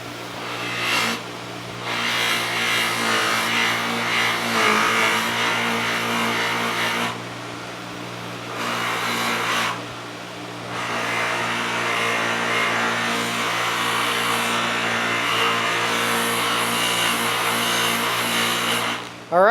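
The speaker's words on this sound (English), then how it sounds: "we're gonna knock off all the buffing compound with just a regular cotton wheel with nothing on it" A plain cotton buffing wheel spins against polished metal to wipe off compound, a continuous whirring motor drone that dips briefly twice and then resumes steadily.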